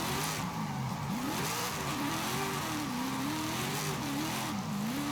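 A loud V8 car engine in Forza Horizon 5 revs hard and steadily, its pitch rising and falling in repeated surges with a raw, roaring exhaust for several seconds, alone and up close.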